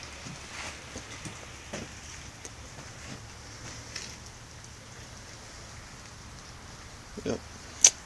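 Rain falls outdoors near a shed, a soft, faint, steady patter with scattered louder drips and a couple of sharp knocks near the end; no one speaks.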